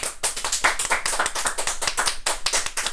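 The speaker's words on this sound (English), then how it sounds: "Give him a round of applause." An audience at a live podcast event breaks into steady applause, with dense, continuous clapping from many hands filling the room.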